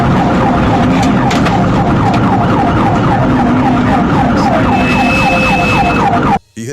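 A loud wailing police siren cycles rapidly up and down without pause during a pursuit, with steady traffic rumble underneath, cutting off abruptly at the end.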